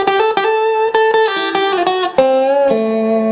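Electric guitar played through its high-output neck pickup with heavy distortion, cranked all the way up: a loud run of sustained, harmonically rich notes changing pitch in quick succession, with no voices.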